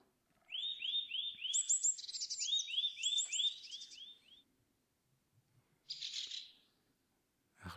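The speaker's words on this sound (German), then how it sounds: "Ein kleiner, nervöser Vogel." A small, nervous bird chirps close by in rapid bursts of thin, high repeated notes, followed by a pause and one more short burst, with little else around.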